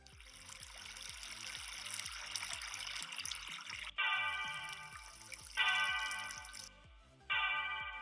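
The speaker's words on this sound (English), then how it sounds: "gave an audio effect to water" Water effect in an animated SVG web project: a quiet trickling, dribbling stream that runs steadily and restarts in looped segments, with no talk over it.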